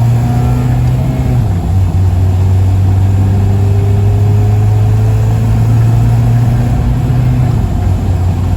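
A Honda Civic with a K20Z1 engine hums at a steady low pitch while driving on the road, with a small dip in tone early on, loud and continuous.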